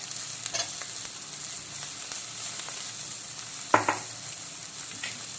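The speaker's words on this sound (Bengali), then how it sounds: "এখন দিয়ে দেবো কেটে রাখা কুমড়ো" Cut ripe pumpkin pieces hitting a hot pan for a fish roe and green mango chutney, giving a steady soft frying sizzle with a sharper burst of crackle and clatter partway through, no voices.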